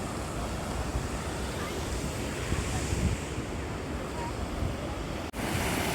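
Waves wash onto a private beach at the Bayu Balau resort in Johor, a steady, dense roar of surf mixed with wind buffeting the microphone and a brief dropout near the end.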